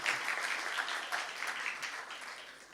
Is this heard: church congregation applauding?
yes